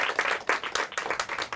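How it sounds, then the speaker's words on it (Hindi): Audience applause for a school team at a Hindi quiz competition, a lively cluster of individual claps close by with an uneven, spirited rhythm. "इनके लिए भी जोरदार तालियां हो जाए"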